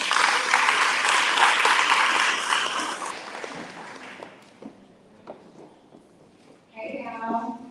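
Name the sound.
audience applause welcoming speaker Ashley Amber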